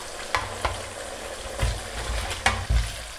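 Shallow-fried chicken pieces go into a ghee-rich Chettinad roast masala in a pan, bringing a steady sizzle with a few thumps and stirring scrapes, close and fairly loud, no voices.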